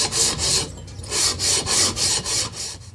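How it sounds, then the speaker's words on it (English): Gasket surface on a 1960s Tecumseh 6 hp engine part rubbed flat by hand on 80-grit sandpaper, a close, rhythmic rasping of about nine even back-and-forth strokes. "I'll work my way through the 80 grit, and then we'll go through the finer papers"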